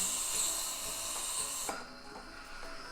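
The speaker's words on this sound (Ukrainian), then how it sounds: "Спочатку перед подачі пари можете просто спустити трішки води, та що була в системі." A Delonghi Magnifica S 22.110 coffee machine's steam wand purges water, a continuous hiss that drops off partway, leaving faint clicks and a low residual sputter; no talk.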